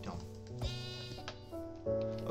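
Baby sheep in Minecraft bleating in two quivering, harmonic calls, near and clear, over steady background game music.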